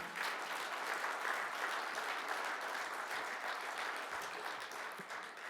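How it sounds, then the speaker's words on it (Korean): Steady, sustained applause from a large audience at a national forum fills the whole stretch, a dense even roar of clapping that fades slightly at the end. "큰 박수 부탁드리겠습니다"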